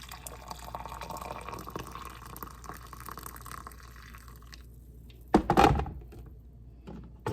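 Water poured from a coffee pot, a quiet trickle building to a brief louder splashing gush near the end, close by with no talk.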